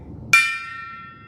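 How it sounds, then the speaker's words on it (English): A gong struck once at an anniversary show rings out with a sharp bright attack and a long shimmering decay that fades slowly, alone with no talk. "Today we're bringing back the gong for our anniversary show here."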